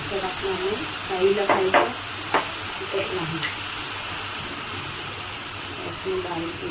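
Spices fry in hot oil for a paneer curry, a soft continuous sizzle with a few sharp spoon scrapes and knocks against the pan, while a voice talks over it.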